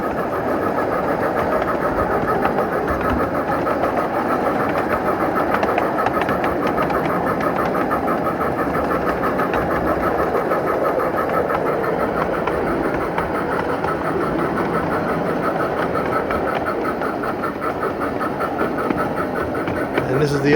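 A Tom Bee electric locomotive with a steam-engine outline climbs a 4% grade on a miniature railway, its motor humming steadily under continuous rhythmic wheel clatter that stays close and even throughout.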